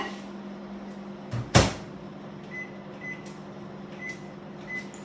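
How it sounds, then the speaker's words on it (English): A microwave oven heating chocolate on high hums steadily after its door thuds shut, with a few soft beeps. "So we're going to go again in with a 20 seconds on a high heat in our microwave."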